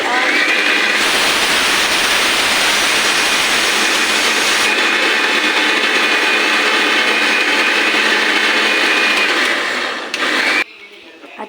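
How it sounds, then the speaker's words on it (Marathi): A kitchen mixer grinder whirs loudly and steadily as it grinds ingredients with added water, a dense continuous roar that holds for about ten seconds before cutting off, leaving quieter background noise. "आता परत मिक्सरमध्ये जाणार।"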